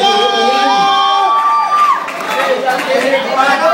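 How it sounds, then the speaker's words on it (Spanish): A student congress audience in Margarita cheers and shouts loudly, with whoops and high voices that settle into crowd chatter. "ahí está esos aplausos."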